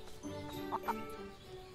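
Chickens cluck in the farming game Everdream Valley, a few short close calls rising over a steady bed of game music and ambience.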